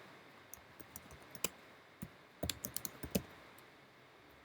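Irregular keyboard typing on a computer, sparse soft clicks at first, then a denser cluster of sharper keystrokes and a final louder key press, close and alone.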